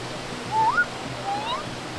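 A waterfall rushes as a steady broadband wash in the background on a day-trip hike, with a few brief voiced calls over it.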